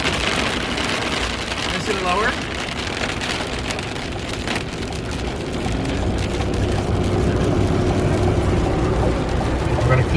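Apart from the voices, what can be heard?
heavy rain during massive storm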